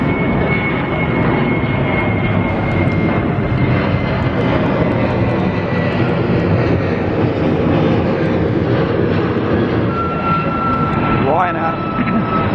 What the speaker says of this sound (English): Here we go then with another TUI 737 MAX.